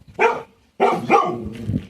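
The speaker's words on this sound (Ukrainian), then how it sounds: "Денька, що ти гавкав?" Two sharp, close dog barks in quick succession, loud and alone, with a faint softer yelp trailing after.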